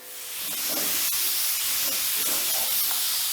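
A spray gun sprays primer onto the hood and deck lid of a 1985 Pontiac Fiero 2M4 with a loud, steady hiss that swells in quickly and holds constant, close to the listener.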